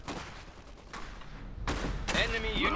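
A heavy machine gun fires in Iron Harvest, a real-time strategy video game: bursts of rapid fire and thumps grow louder toward the end, with game voices and effects over them.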